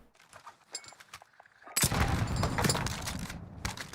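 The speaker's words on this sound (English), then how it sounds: "Not sure if he's shooting at me or someone else." Video game gunfire crackles in a few light bursts, then swells into loud, dense, sustained automatic fire that continues to the end.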